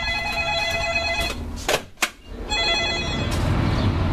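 A telephone rings with a bright, warbling electronic tone in repeated bursts, broken by a couple of sharp knocks midway, then ringing again, all close and fairly loud over a steady background hum.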